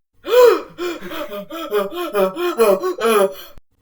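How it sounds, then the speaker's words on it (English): In an audio drama, a man breathes heavily after a painful, awkward landing, with ragged, loud close-up gasps and rasping breaths in quick succession that fade out after a few seconds. "He remains there, breathing heavily for a moment."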